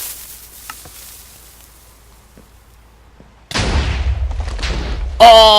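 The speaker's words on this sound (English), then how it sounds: "All 4 of these cannons are firing out in that direction" Minecraft cannons fire in the video game, several shots landing as a sudden loud burst of booms and rumbling thuds after a quiet stretch, followed by a bright, ringing in-game sound.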